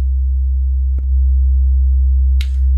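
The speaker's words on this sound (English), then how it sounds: "So now we have this sine wave, right?" A steady sine wave test tone from an audio setup for demonstrating the AIR Soft Clipper plugin, held level and constant throughout, with two brief clicks breaking through near the start and end.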